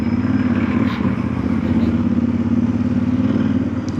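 VOGE DS800X Rally motorcycle engine idling and blipped by hand with a cable throttle, a steady close, loud droning rumble that swells slightly on throttle.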